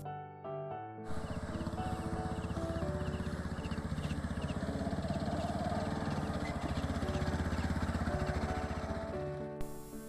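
Motorcycle riding along a forest road near Netarhat, the engine running steadily and fairly close for most of the stretch, with a pulsing mechanical drone and no talk.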